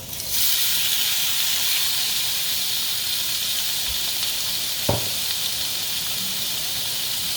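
Shrimp hit a hot pan and sizzle into a loud, steady hiss that holds throughout, broken by a single sharp knock of a utensil midway.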